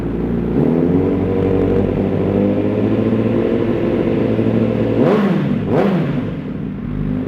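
A Honda CBR1000RR motorcycle from 2017 with an Austin Racing aftermarket exhaust idles loudly up close, then its throttle is blipped twice near the end, the exhaust rising and falling quickly each time.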